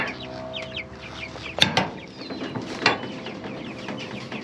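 Chickens cluck softly and steadily in a pasture around a movable chicken tractor, with two sharper, louder calls standing out midway over the close, continuous flock chatter.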